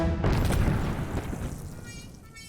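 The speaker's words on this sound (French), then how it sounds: "Une bombe!" A cartoon bomb goes off with a loud booming blast and a rumbling tail that fades over a couple of seconds, with a faint ringing near the end.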